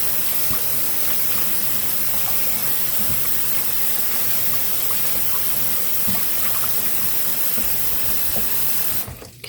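Fresh cut herbs being rinsed in water, a steady close hiss of running water from a tap continuing without a break, cutting off at the very end.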